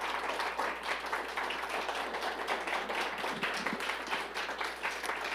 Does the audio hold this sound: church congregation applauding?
yes